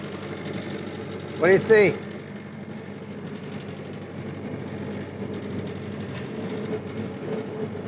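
Mini excavator's diesel engine runs at a steady, close, rumbling idle throughout. A sharp squeal cuts in briefly near the start, and a few voices speak over the engine.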